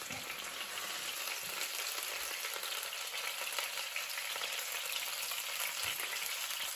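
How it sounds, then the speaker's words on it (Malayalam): Karimeen fish shallow frying in a pan, its steady oily sizzle crackling continuously at close range, with a few soft low bumps from the pan and no voices. "ഇപ്പതേ നമ്മുടെ മീനിന്റെ 2 വശവും ഒരു ഷാലോ ഫ്രൈ ആയിട്ടുണ്ട്."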